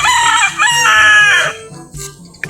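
A fighting rooster kept for breeding in a fishnet coop crows loudly and close, giving one full drawn-out crow followed by short clucks.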